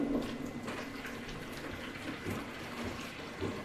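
Hot water splashes steadily into a container for a yoni steam, a continuous close pouring rush with no voices.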